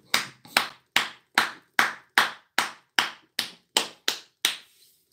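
A church congregation clapping together in praise, eleven loud, evenly spaced unison claps with a steady rhythm, close and clear, the last one fading out.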